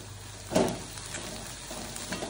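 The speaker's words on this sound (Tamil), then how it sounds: "வெங்காயம் நல்லா வதங்கிருச்சு." Onions with curry leaves, salt and chili powder sautéing in oil in a pan while making stuffed brinjal poriyal, giving a brief burst of sizzling and stirring followed by a soft, steady fry.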